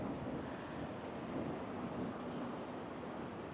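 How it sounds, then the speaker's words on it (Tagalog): Strong wind buffets the microphone while biking in a sports park in Taipei, a steady loud roar of rushing gusts without breaks, with a brief faint high chirp partway through and no talk. "At para ang lakas ng hangin"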